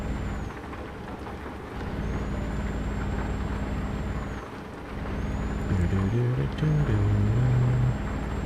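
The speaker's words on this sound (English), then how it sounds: "I was braking and it was drifting" Truck air brakes in Euro Truck Simulator 2, sharp hissing releases over a steady engine drone, with a few brief bursts across the stretch and tonal vehicle sounds near the end, no talk.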